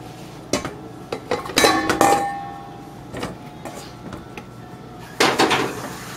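Conch fritter ingredients with salt, pepper and seasoning tipped into a mixing bowl, giving a string of sharp clinks and clatters of utensils against the bowl, loud and close with short pauses between bursts.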